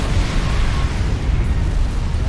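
Explosions tear through an enemy base in Command & Conquer with the Chemical Warfare mod, a dense, continuous rumble of overlapping blasts and booms that stays loud and sustained throughout.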